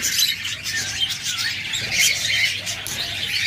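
Pet birds, including a pair of Bengalese finches, chirp in a busy bird shop among lovebirds, budgerigars and cockatiels, with dense, overlapping high tweets and twitters filling the whole space without pause.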